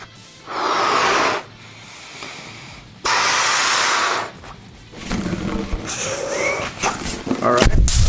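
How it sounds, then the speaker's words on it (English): A person blows air into a rubber balloon in two long, loud breathy bursts with a pause between them, followed by rustling and squeaky handling of the balloon. "Now we're gonna blow up this balloon,"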